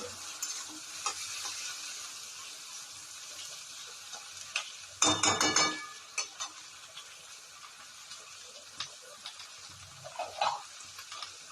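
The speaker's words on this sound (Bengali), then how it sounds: "এগুলো আমি খুব ভালো করে ভাজা ভাজা করে নেবো" Capsicum, onion and tomato fry in a pan with a soft, steady sizzle, broken by scraping stirs and a louder burst of clatter midway.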